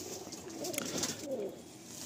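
A Giribaj pigeon, a male of an old Kolkata line, gives soft, low cooing murmurs close by, steady and faint over about two seconds.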